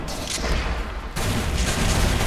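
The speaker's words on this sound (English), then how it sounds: "Ah, rocket." Rocket explosions and heavy gunfire boom through a chaotic firefight in the shooter game Renegade-X, loud, dense and continuous with a fresh blast about halfway through.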